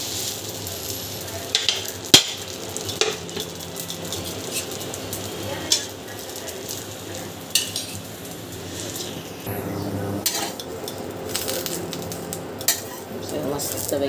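Dosa cooking on a hot pan, a low sizzle beneath repeated metal clinks and scrapes of a spatula against the pan, close by with no talk, the clatter irregular throughout.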